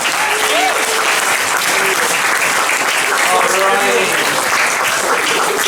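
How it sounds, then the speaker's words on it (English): Loud, sustained audience applause fills a student comedy gig, steady throughout, with a few voices and a brief spoken word over the clapping. "Give him a round of applause."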